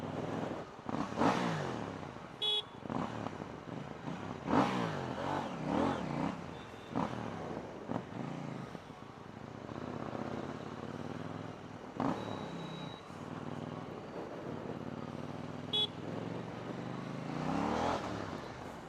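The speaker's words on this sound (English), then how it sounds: "the low range grunt on the exhaust is too good" A KTM Duke 790 motorcycle's exhaust gives a low, grunting rumble with repeated rises and falls in revs, heard up close and continuously for about nineteen seconds, with no voices.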